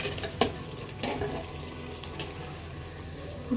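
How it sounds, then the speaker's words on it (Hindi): Water poured into a handi of boneless chicken masala with red chilli and dried coriander, a soft splashing pour with a few brief bursts over a steady background of kitchen noise. "थोड़ा सा इसके अंदर पानी डालेंगे, मसाला लगे ना नीचे"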